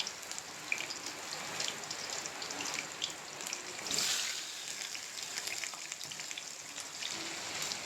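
Fish heads sizzle steadily in hot oil, a soft continuous crackle with occasional louder pops, fairly quiet and without talk.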